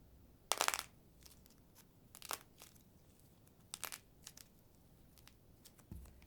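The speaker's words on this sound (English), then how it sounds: "So I guess I will zip it and let's listen to some cracking." Clay pieces coated with nail polish crackling inside a zipped bag as they are squeezed, giving sparse crisp crunches and clicks separated by near-silence, close and quiet, with no speech.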